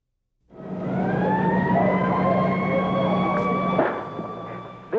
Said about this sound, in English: The sirens have not stopped screaming since we arrived on the university campus.